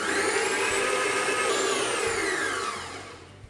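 A food mixer whizzes Welsh cake batter of butter, sugar and egg, a loud steady whirring with shifting pitch that winds down in the last second, no talking.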